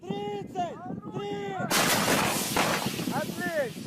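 A loud artillery blast near Debaltseve, Donbas, booms and rumbles through the scene, amid background noise and what sounds like a siren or whining tones rising and falling.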